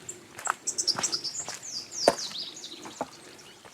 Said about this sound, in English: Birds are getting vocal.